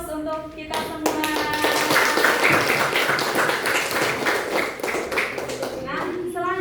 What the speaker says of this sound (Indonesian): Oke, aplaus untuk kita semua.